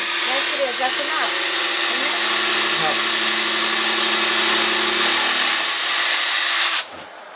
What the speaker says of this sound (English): Pilot holes are essential if you don't want to risk splitting the wood